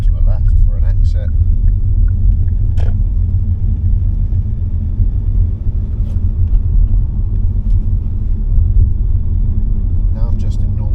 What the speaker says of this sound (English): I'm going to go third gear now.